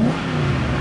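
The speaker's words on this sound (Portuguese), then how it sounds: "eu vou dar uma acelerada que vocês vão ver, ó." Car engine fitted with a sport carburetor revs hard and steadily, a loud, close, continuous mid-pitched roar that holds for under a second with no talk over it.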